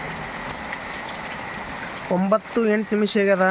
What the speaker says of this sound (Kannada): ನೋಡ್ರಿ ಮಳೆ ನೋಡ್ರಿ ಹೆಂಗೆ ಬರ್ಲಾಗತ್ತದ